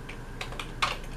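A few quick keystrokes on a computer keyboard while typing a command on a Raspberry Pi running RetroPie, close and clear, with soft clicks spaced unevenly.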